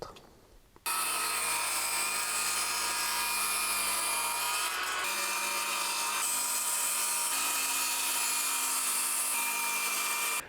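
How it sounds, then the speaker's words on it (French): A power saw cuts through a piece of wood at 300 mm in a workshop, a loud sustained whine and rasp running without a break for about ten seconds after a short quiet start, with no speech. "je vais faire ma découpe à 300 mm"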